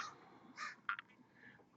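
Several crows caw outdoors at some distance, a few harsh calls followed by a quick pair of sharp caws, fairly faint against a quiet background.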